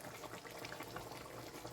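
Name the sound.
beans and chicken boiling in a pot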